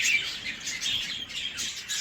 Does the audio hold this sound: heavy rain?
no